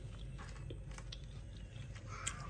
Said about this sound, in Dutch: Sorry, ik smak echt.